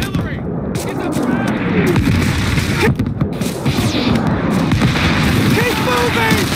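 Dense artillery fire in a Call of Duty battle, booming blasts and gunfire pounding continuously and loudly throughout, with voices shouting over the chaotic barrage.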